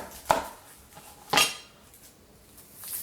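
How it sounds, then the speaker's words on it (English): A kitchen knife cuts roughly through a medium-sized onion on a board, giving two distinct, crisp chopping thunks about a second apart in a quiet kitchen. "I've got 1 medium-sized onion. I'm going to put a rough chop on that."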